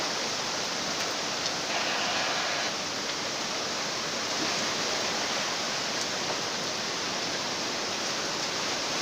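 Floodwater surges in a steady broadband roar after heavy mountain rain at Pasonanca, a loud, constant rushing torrent that fills the whole span without letup.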